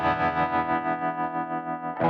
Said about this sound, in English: There's a trem.